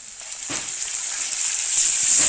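Onion, green chili and garlic paste fry and get stirred in a pan for a potol chingri dish, a steady close sizzle with faint scraping stirs that grows slightly louder toward the end.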